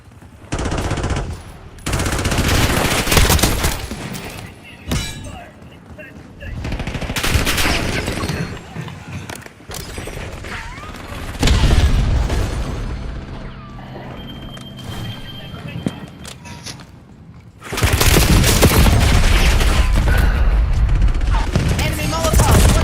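Black Ops 6 multiplayer battle with repeated bursts of automatic gunfire and scattered shots, loud and dense in stretches and quieter in between, with game voices calling out over the combat.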